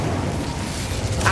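Incendio fire spell cast in the video game Hogwarts Legacy, a loud whooshing burst of flame with a rough, roaring texture, ending in a brighter flare.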